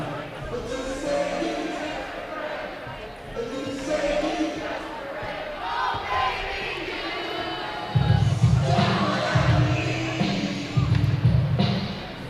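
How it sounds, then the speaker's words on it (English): Hockey crowd in an arena singing along in unison, a broad swell of voices that grows louder near the end with rhythmic thumping beats, lively and sustained. "I love a good sing-along. Let the crowd do the work."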